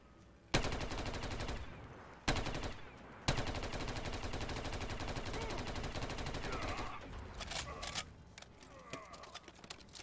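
An LMG light machine gun fires sustained automatic bursts in a Walking Dead-inspired custom zombies video game: two short opening volleys, then a long rattling stream that breaks into scattered shots near the end.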